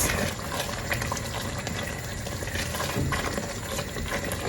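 Vegetarian dawadawa jollof sauce simmering in a pot and being stirred, a steady close bubbling and gurgling with faint scraping under it throughout.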